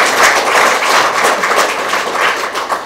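Audience at a Korean advisory council gathering claps to welcome guests, a short burst of crowded hand clapping, close and fairly loud.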